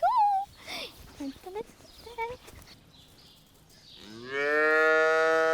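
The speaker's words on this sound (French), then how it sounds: "je vais t'emmener rencontrer mes vaches" Cows low on a farm in Vinesme en Berry, a few short moos near the start, then a long drawn-out bellow rising loud and close at the end, with scattered quieter calls between.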